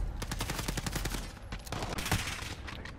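Rapid bursts of video game gunfire crack loud and close, repeated shots running throughout with a heavier blast near the end, no talking over it.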